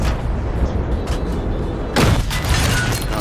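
Gunfire in the video game Battlefield 6, a loud burst of shots about halfway through over a steady rumble of in-game battle noise and ambience.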